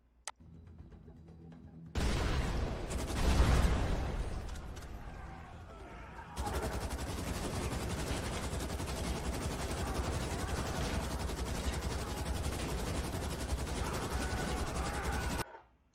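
Sustained suppression gunfire in an AI-generated third-person shooter, a dense continuous roar of rapid shots running for many seconds after a brief quieter start.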